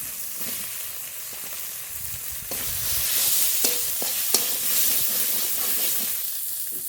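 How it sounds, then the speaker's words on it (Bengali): Prawns frying in a pan with salt and turmeric for a bottle gourd curry, stirred with a spoon: a steady hiss of sizzling oil broken by scraping stirs and a few sharp clinks against the pan, with no talking. "লবণ সামান্য একটু হলুদ ভেজে রাখা চিংড়ি মাছ দিয়ে দেবো"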